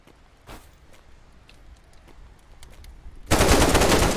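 AK rifle fire in the video game Decaying Winter: a few faint distant pops early on, then a sudden loud sustained burst of automatic gunfire in the last second.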